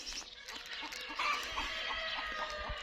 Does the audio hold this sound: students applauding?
no